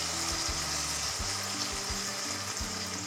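Boiled chickpea dal goes into a hot pan with hing and ginger paste, hissing in a steady, even sizzle close up with faint low scraping taps beneath.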